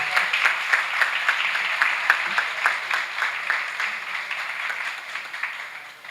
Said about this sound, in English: Let's give Presentation College a hand of applause.